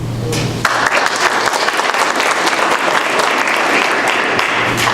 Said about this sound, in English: Please hold your applause to the end of the segment.